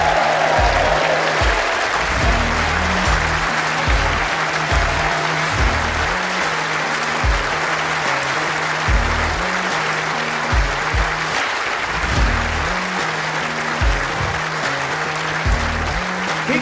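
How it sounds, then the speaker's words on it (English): Indoor audience at the World Indoor Bowls Championship mixed pairs final giving the champions sustained applause, a steady, loud wash of clapping that carries on throughout, with a faint voice briefly over it. "Keep that applause going, ladies and gents, come on."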